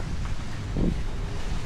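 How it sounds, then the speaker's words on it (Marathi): Strong wind blows outside, a steady low rushing buffet against the microphone with a brief louder gust midway. "वादर वारा सुटलाय र, वाऱ्यानं तुफान उठलाय"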